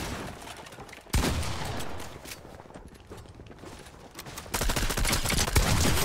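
Rapid Fortnite gunfire rattles in dense, continuous bursts, loud and sustained, with a sharp onset near the start and another heavier surge toward the end.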